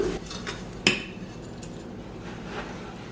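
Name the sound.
stirring sugar in a pan on the stove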